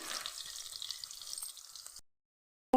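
Tempering of cumin, fenugreek, mustard seeds, garlic and green chilli frying in oil for gongura dal, a close crackling sizzle for about two seconds before cutting to silence and a brief tone.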